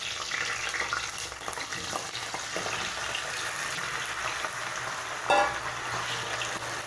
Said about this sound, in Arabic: هنايا راح نقلي هذه البطاطا اللي كنت درت لها الملح